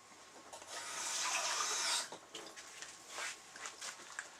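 Water runs briefly from a tap into a container for smoothing clay on an elk taxidermy head, a soft hissing splash of about two seconds followed by faint rubbing and small handling sounds.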